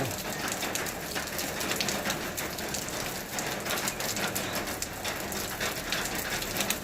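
Heavy rain pours steadily and loudly in a hilly forest, a dense continuous hiss of drops drumming on surfaces with no voices.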